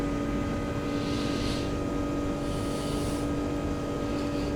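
Steady, loud engine roar from an airliner taking off and climbing in the X-Plane flight simulator, with a sustained droning hum throughout and no pauses.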